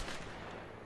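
A single gunshot rings out in the video game A Way Out, a loud broadband crack that decays over under a second with no talk over it.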